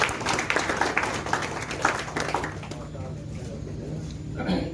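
Scattered audience clapping for the poet Asif Akhtar at a farewell gathering, uneven claps rising in the first half and thinning out, with voices talking over and after them.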